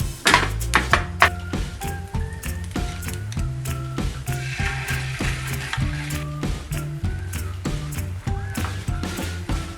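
Egg yolk frying in a thin film of oil in a pan for a garnish, a steady close sizzle with soft scraping and tapping from stirring or spreading throughout.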